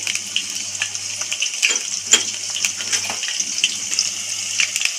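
Potatoes sizzle in hot oil in a home kitchen pan, seasoned with salt and turmeric. The frying is a steady, close crackle with scattered pops and no talking.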